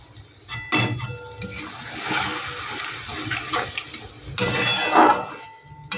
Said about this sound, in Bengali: টমেটোমের সসের বাটিটা ধুয়ে আমি একটু জল দিয়ে দিচ্ছি এখানে।